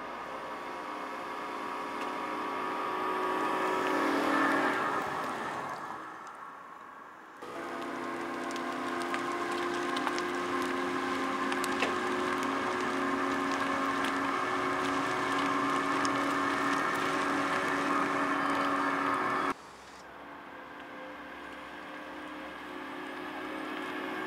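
An Opel Vivaro-e Cargo electric van with a 75 kWh battery and 100 kW drives on the road, a steady interior hum of tyre and road noise with whining tones that rises and shifts as it moves.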